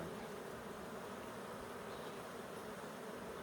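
Honeybees buzzing during an inspection of a secondary hive, a dense steady drone filling the whole stretch with no pauses and no talk.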